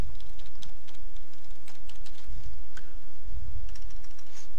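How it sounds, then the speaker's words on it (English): Someone types information into a form on a computer keyboard, with rapid, steady keystrokes that are close and clearly heard throughout. "We'll type in some information."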